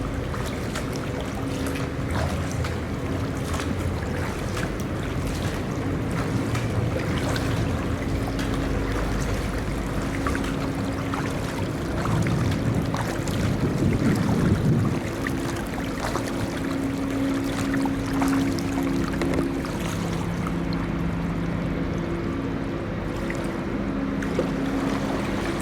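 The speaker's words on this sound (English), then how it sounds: "I don't know if you can hear that noise. That's a big Bernard Road incinerator." Low steady industrial hum from the large Bernard Road rubbish incinerator, heard from a kayak on the Sheffield and Tinsley Canal near Bernard Road Bridge, droning continuously under paddle splashes and water noise.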